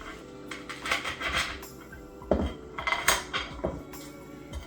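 Peppercorns are crushed in a kitchen, heard as a series of hard clacks and grinding knocks of a utensil against a dish, uneven and fairly close, without speech.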